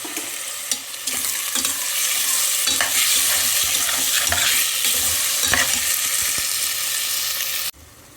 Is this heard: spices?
yes